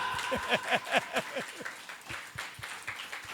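Church congregation at a Sunday worship service claps for the Lord in a steady rhythmic beat, sharp distinct claps in even time with cheering voices and music faintly underneath.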